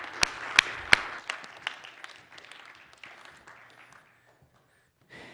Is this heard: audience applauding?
yes